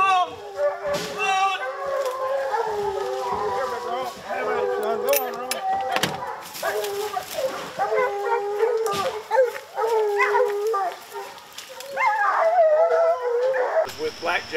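Hunting hounds baying and howling while chasing bears in the woods, several dogs overlapping in long wavering howls and bawls, moderately distant but strong, with people talking at times.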